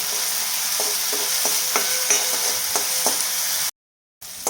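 Green chilies and garlic fry in hot oil, giving a loud, continuous close sizzle with a few soft stirring knocks before the sound cuts out abruptly.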